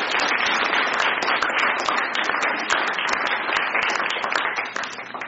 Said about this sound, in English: So we'll give you all a round of applause.